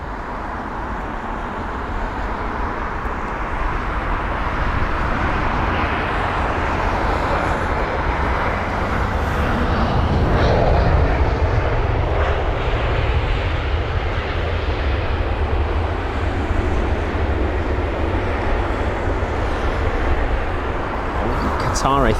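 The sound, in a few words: British Airways Airbus A320 landing at Heathrow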